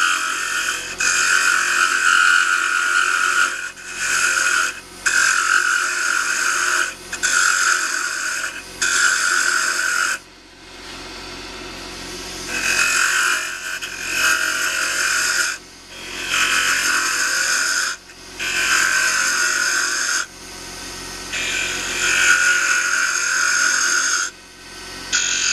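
A curved wooden onion-neck piece is sanded in repeated rhythmic bursts. Each stroke gives a scratchy, raspy hiss lasting a second or two, with brief pauses between strokes and close, steady loudness.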